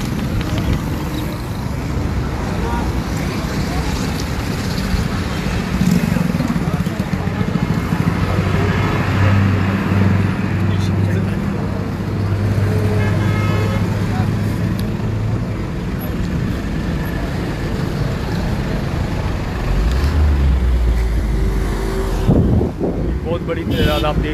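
Steady roar of heavy traffic on the Karachi Super Highway, continuous and fairly loud, with buffeting wind noise on the microphone and a deep engine drone from passing heavy vehicles in the middle stretch.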